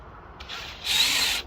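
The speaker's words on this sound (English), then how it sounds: "the best thing to do is drill a pilot hole" A power drill whirs briefly while drilling a pilot hole into steel, two short high-pitched bursts with the second louder and longer, close by.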